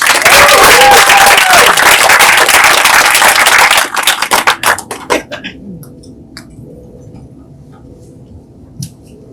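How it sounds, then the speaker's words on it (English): Audience applause for a poet at a Chicana/o and LatinX poetry and spoken-word event in Riverside, loud sustained clapping that fades out after about four seconds into scattered individual claps. "Ladies and gentlemen, put your round of applause together for Ms. Sonia Gutierrez."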